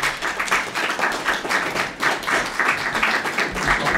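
An audience at a club talk breaks into lively applause, its clapping dense and even, with a slight pulsing rhythm and no voices standing out.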